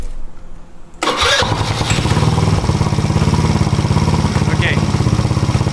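A GY6 171cc fuel-injected engine in a Honda Ruckus scooter starts after a second of quiet, then idles steadily near 2,000 RPM with an even, loud, close putter.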